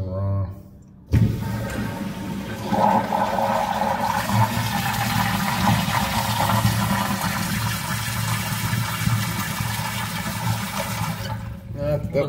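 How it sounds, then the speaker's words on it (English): Close by, a wall-hung toilet fitted with a flushometer gives a normal flush: a sudden loud surge of rushing water holds steady for roughly ten seconds, then cuts off sharply. "That's a normal flush."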